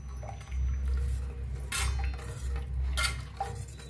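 A spoon stirs egg curry in a metal pan, producing repeated scraping clinks against the pan over a low background hum, with no talking.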